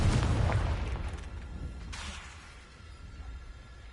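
A Confringo spell explosion in the video game Hogwarts Legacy: a single loud boom at the start that decays into a fading rumble over a few seconds, with no talking.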